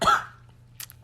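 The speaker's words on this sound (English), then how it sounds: "and I'm gonna cough." A single close, loud cough bursts out at once and fades quickly, followed by a soft breathy rustle, with no talking.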